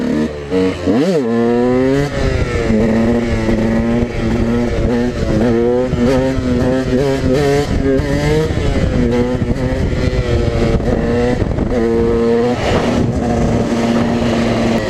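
A supermoto motorcycle engine revs loudly and continuously up close while riding, rising and falling through gear changes with sharp throttle sweeps and a brief drop near the start.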